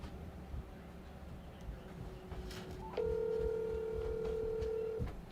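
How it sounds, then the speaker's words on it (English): Telephone keypad tones beep in a short run of dialing, followed by a steady ringback or dial tone that holds for about two seconds over quiet room noise. "I want to make a phone call really quick."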